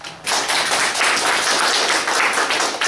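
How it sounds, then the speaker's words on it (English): An audience applauds a persuasive speech, with steady, dense clapping that starts abruptly and holds at a loud level throughout. "So Kiersten, round of applause."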